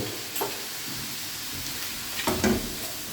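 Chicken liver fries with soy sauce in a pan, a loud steady sizzle broken by a few short scraping stirs.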